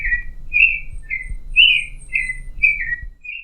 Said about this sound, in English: they chose as their national bird the clay-colored thrush